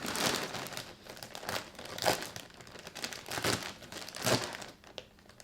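A big plastic bag of Berry Bunch Crunch cereal crinkles and rustles close up in repeated loud handling bursts, with no talking.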